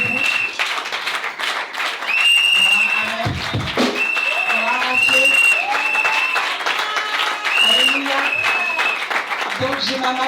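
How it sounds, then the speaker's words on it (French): An audience at a Mother's Day church service applauds a visiting church delegation with loud, dense clapping throughout, under voices and sustained musical tones. "Alors on va les acclamer"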